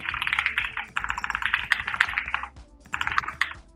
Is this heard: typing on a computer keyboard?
yes